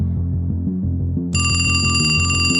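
A cartoon phone rings loudly, first as a low repeating electronic tone pattern, then joined halfway by a bright sustained bell-like ringing, continuous with no voices.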